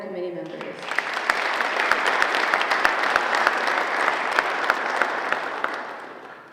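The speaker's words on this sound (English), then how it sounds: "Please give a round of applause for our new committee members." Audience applause for newly named committee members at a high school honor society ceremony, dense close clapping that swells in, holds steady with sharp individual claps standing out, then tapers off.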